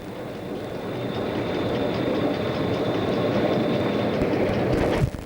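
A 1990s Ferrovie dello Stato train runs on rails near Trieste with a steady, loud rolling rumble and faint clatter of wheels. The noise swells slightly, then ends with a sharp knock.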